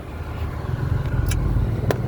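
Car moving through slow city traffic in Las Piñas City, a steady close engine and road rumble with a couple of brief higher clicks or rattles, no talking.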